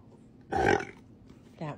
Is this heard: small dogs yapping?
no